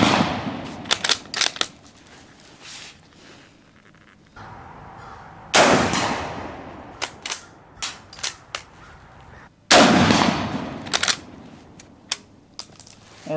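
Gunshots fired downrange over a Garmin Xero C1 Pro chronograph at a shooting range, a series of sharp cracks spaced irregularly, some louder and closer with ringing tails, others quieter, with no talk.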